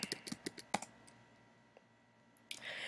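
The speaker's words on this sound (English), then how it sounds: "you're going to start typing in your username, which is your UID, and your password" Quick keystrokes on a computer keyboard as a username and password are typed in, a close burst of crisp clicks in the first second, then near silence before a brief rustle.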